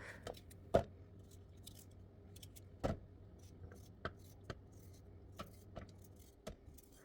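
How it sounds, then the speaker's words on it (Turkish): Sharp, sparse knocks of a knife chopping potatoes on a cutting board, about ten irregular strikes against a quiet background. "Evet doğradım patatesleri"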